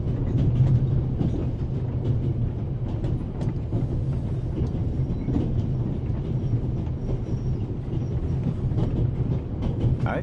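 A train runs steadily along the rails, a loud continuous low rumble with faint repeating clicks from the wheels and no voices, from a radio drama.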